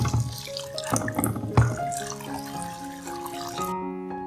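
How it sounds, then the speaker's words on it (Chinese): Choy sum being rinsed under a running kitchen tap, with steady water flow and splashing into a sink, close and fairly loud, mixed with faint tonal background music and no speech. "首先将菜心洗干净"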